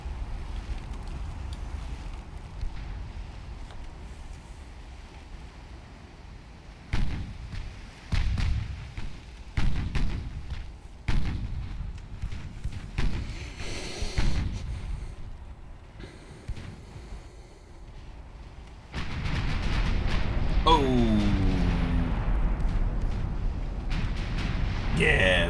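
Warship guns firing in the Ultimate Admiral Dreadnoughts naval video game: a string of deep, booming thuds in quick succession, then a sustained heavy rumble and roar near the end.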